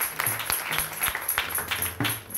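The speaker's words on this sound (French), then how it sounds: "Applaudis le Seigneur." A Sunday worship congregation applauding in church, brisk scattered clapping from a crowd, moderately loud, with a few sharper individual claps standing out and no talk over it.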